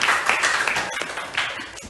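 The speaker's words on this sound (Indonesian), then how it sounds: "Tepuk tangan." A classroom audience claps briefly after a group presentation, a short burst of dense, close clapping that fades out at the end.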